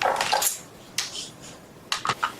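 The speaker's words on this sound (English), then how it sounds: "you can actually grate a peeled apple just by pressing down on this flat grater" A peeled apple is pressed and scraped across a flat grater, producing short, scratchy rasps in small clusters with brief pauses between strokes.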